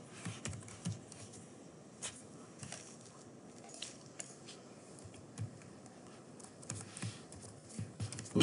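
Quiet, irregular clicks of typing on a computer keyboard, close and alone, with light key taps scattered across several seconds.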